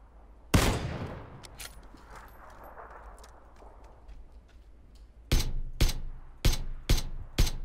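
Gunfire in an online shooter game, a loud sharp shot followed later by a quick run of four or five evenly spaced cracks, close and dominant over a faint quieter background.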